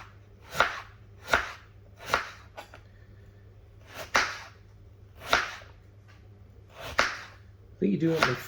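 A knife cuts through potatoes on a board, slicing them thin for a Spanish tortilla de patatas. Eight sharp, close chops come at an uneven, unhurried pace, then a short rustle at the end.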